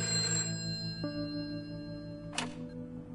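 A telephone rings in the A Way Out video game, a tonal electronic ring that is steady and moderately quiet, heard alone with a sharper burst near the end.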